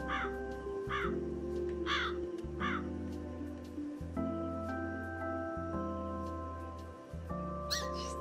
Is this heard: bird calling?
yes